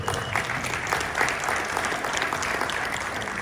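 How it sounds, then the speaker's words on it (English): An audience at a customer panel event applauds, a steady dense wash of clapping that holds at an even level throughout with no one speaking. "I think that deserves a round of applause."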